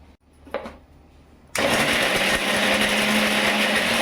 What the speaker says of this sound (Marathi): मी असं बारीक तुकडे करून आणि मग मिक्सरला फिरवलं आहे